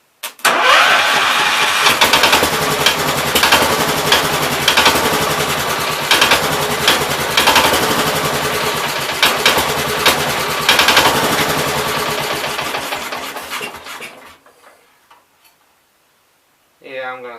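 A 1969 Gravely 432 tractor engine cranks, catches and runs loud and rough with a steady knocking tick for about thirteen seconds, then dies out; brief voices come in at the very end.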